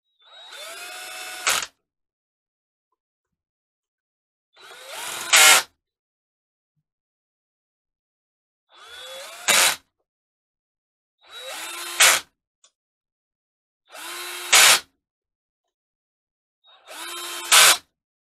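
An electric drill snugs screws lightly into a Rotax DSC engine's bottom end, with six short, loud whirring bursts spaced by silences, each ending in a sharp stop.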